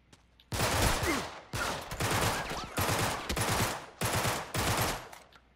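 Automatic gunfire from a firefight in the action game Uncharted: Drake's Deception comes in five or six loud, dense bursts, each about a second long, separated by brief gaps, with no talking.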